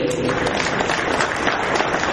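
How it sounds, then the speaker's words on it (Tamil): An audience clapping at a book release event, a dense burst of crowd applause filling the hall for a couple of seconds, with a voice faintly mixed in. "அந்த கைத்தட்டல ரிசர்வேஷன்ல வைங்க"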